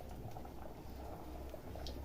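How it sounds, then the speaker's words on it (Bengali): Bora fritters are dropped into hot oil and fry with a low, steady bubbling and crackle. The sound stays faint and continuous, without talk. "আমাকে আর বলে জানেন এই বড়াগুলো এবার ছাড়ছে"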